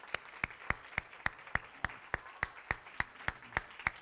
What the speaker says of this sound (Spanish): ¿Cuántos le dan un aplauso a Jesús el Mesías?